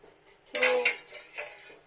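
A metal thali plate is set down in a home kitchen, ready for serving hot rice with banana flower and shrimp ghonto. It gives a short, close clatter of dishware, then a lighter second knock a moment later.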